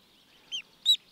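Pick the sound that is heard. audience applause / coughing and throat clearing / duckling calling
duckling calling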